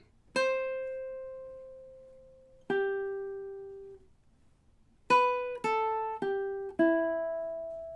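Measures 1 through 4 of the Jamaican folk song Day-O on solo ukulele: two long sustained plucked notes with a pause, then a quicker cluster of four notes, close and clear.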